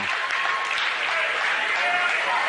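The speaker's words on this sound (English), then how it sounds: "Somebody's cheering for us over here" Crowd cheering and clapping in a gym at a girls' state quarterfinal basketball game, a steady loud roar that runs through the whole moment with no pauses.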